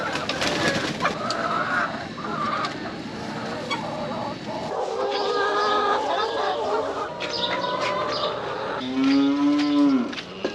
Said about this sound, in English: the calves because they've been making quite a bit of noise